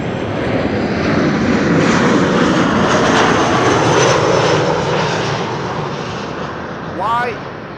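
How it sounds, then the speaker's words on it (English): Tarom airliner in retro livery, arriving from Bucharest, roars loudly and steadily overhead on approach to Amsterdam Schiphol Airport, its broad engine noise holding for several seconds before a brief whine rises near the end. "Tarom flight 361, arriving from Bucharest, is the first airplane to arrive over here."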